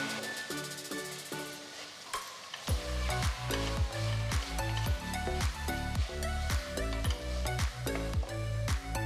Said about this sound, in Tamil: அடுத்து 4 தக்காளி நறுக்குனது சேர்த்து வதக்குங்க